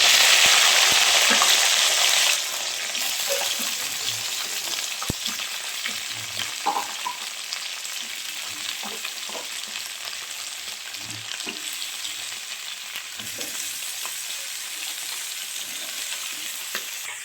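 Potato and cauliflower pieces hit hot oil with fried chilli and nigella seeds, a loud burst of sizzling that settles into a steady, close frying hiss with faint stirring clicks.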